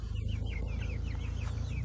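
Meat chickens cluck and chirp in a series of short calls over a low background hum, close by and moderately faint.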